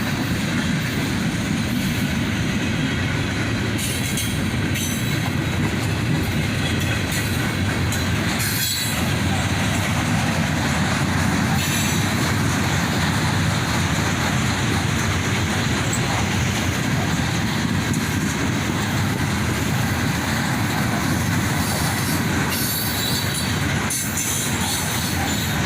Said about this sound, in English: And a few more refrigerator cars mixed in. These ones are Union Pacific.